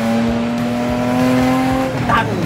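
BMW 635 CSi engine holding a steady droning note close by, then dropping off as a gear change clunks in, followed by a brief squeal and rising revs.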